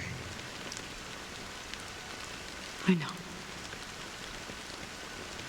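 Steady rain falls in the game Honkai Star Rail, a soft continuous patter with one brief louder knock partway through, while a short line of speech is heard.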